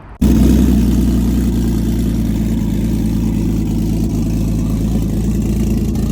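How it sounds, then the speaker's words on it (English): A 370Z tuned to 1300 wheel horsepower fires up from cold with an abrupt catch, then settles into a loud, deep, steady high idle that rumbles on close by with no other sounds. "what a 1300 wheel horsepower 370D cold start sounds like"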